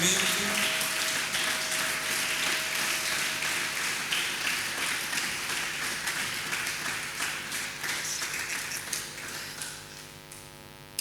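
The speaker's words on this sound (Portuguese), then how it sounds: "Aplaudimos" Sustained clapping from a congregation during a church service, a steady dense wash of applause with a faint hum underneath, slowly thinning toward the end.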